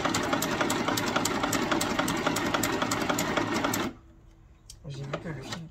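A WE R Memory Stitch Happy sewing machine runs at a steady fast clatter for about four seconds, then stops abruptly; after a short pause, softer mechanical sounds follow.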